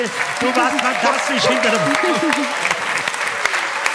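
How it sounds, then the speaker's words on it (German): Studio audience at a Schlager TV show keeps up a steady wash of clapping while someone talks over it, the applause thinning toward the end. "Das ist dein Applaus."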